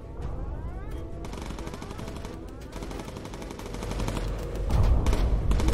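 Rapid machine-gun fire from a World War II bomber's turrets rattles continuously at Stuka dive bombers in the game Bomber Crew, a dense, steady stream of shots that swells louder and heavier toward the end.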